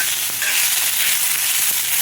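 Onions frying in a pan for an egg chaat, a steady close hiss and sizzle with a couple of faint utensil taps, no talk.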